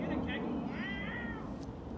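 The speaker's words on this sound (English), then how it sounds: "No, that's a cat" A cat meows at an outdoor car meet: one clear, rising-and-falling mew stands out over a steady background of voices and crowd noise.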